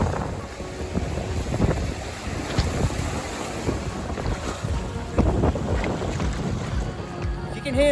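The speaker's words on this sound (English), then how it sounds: "If you can hear me over the wind noise," Strong gusting wind buffets a sailboat anchored in a bay in the Calanques of southern France, roaring microphone wind noise with rising and falling gusts, lapping water and faint creaks throughout.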